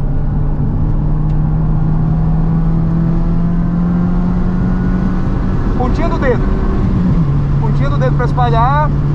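Car engine accelerating during a driving lesson, a steady engine drone holding under an instructor's talk, with a brief shift in pitch near the end.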